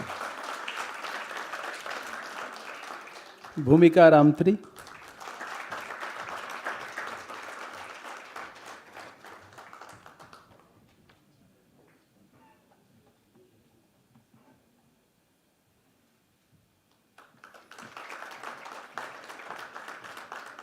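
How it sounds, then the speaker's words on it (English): An audience at a college convocation ceremony applauds, steady clapping with a brief louder burst as a name is announced over it. The clapping fades into near silence and then picks up again near the end. "you're not clapping, we're not getting enough claps"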